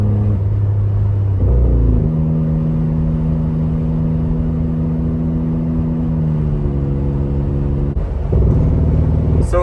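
A Ford Bronco Raptor engine holds a steady, loud mid-pitched drone with a harmonic whine, shifting pitch partway through and ending with a brief rise and change, like a limiter-style rev.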